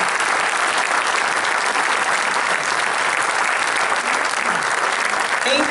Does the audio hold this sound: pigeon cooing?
no